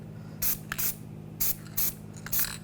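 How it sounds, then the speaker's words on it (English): Anti-seize is sprayed in short squirts onto rear brake parts of a 2000-2006 BMW X5, giving five or six brief hissing bursts close by with quiet pauses between them. "just take a little anti-seize and just give it a little squirt."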